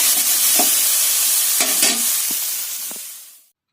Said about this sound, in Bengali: পেঁয়াজ ঢেঁড়স ভাজা করছি